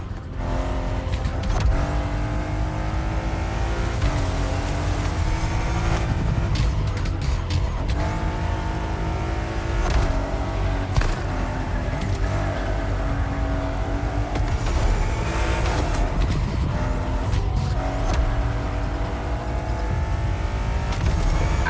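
An Aston Martin in the racing game The Crew Motorfest drives hard, its steady engine note rising and falling with gear changes and tire squeals breaking through, loud and continuous throughout.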